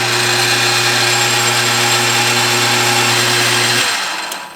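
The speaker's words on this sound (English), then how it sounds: "Here we've got him chucked up in the lathe." A metal lathe spinning with an MGB banjo rear differential part held in the chuck, a loud steady mechanical hum with a strong low tone that winds down at the end, no voices.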